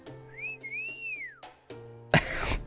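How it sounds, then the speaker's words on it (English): A whistle sound effect in the video game Fate/Grand Order: one rising and falling whistled tone with a long arcing glide, set over a steady game music bed and followed by a burst of noisy effects. "They even added the whistle sound effect for once"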